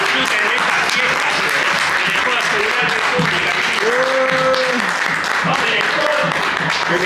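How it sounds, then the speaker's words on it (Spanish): Audience at a village festival night in a small Buenos Aires town applauding steadily throughout, with voices calling out and a brief whistle or cheer rising over the clapping. "Un aplauso para ustedes y disfruten de esta fiesta."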